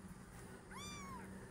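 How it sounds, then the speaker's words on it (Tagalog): A kitten gives a single short, faint meow against a steady low background hum. "Wow, naman ang kuting namin na iyan"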